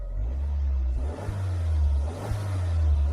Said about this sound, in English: Now, for David, I need to rev it up.